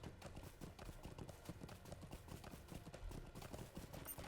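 Horse hooves clip-clop steadily in a video game, a brisk, even rhythm of close, clear hoofbeats that continues throughout at a fairly faint level with no talking.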